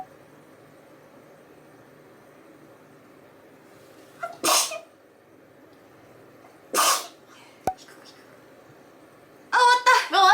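A person sneezes repeatedly at different pitches to play the Japanese children's Frog Song melody. Three loud, separate sneezes come with pauses between them, and the last is a quick, close burst.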